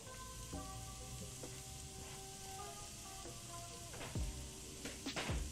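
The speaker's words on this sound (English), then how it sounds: "So you just want to stir fry this for a while to get the fragrance of the garlic and ginger out." Garlic and ginger sizzling as they are stir fried in a pan, a steady crackling hiss with a few clinks and scrapes of a utensil near the end, close and moderately loud.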